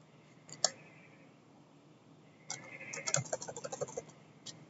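Computer keyboard with quiet surroundings: a single key click early, a pause, then a burst of quick, crisp keystrokes and clicks, close and fairly faint.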